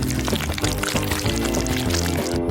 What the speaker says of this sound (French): Je vais verser tout ça sur les beignets en même temps.